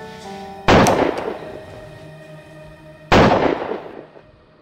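Two loud gunshots about two and a half seconds apart, each a sharp close blast that rings out and decays, with no talking between them.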